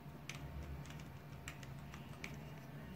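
Fingers type on a new gaming keyboard, with quick irregular clicky keystrokes in small bursts, faint and close, over a low steady hum.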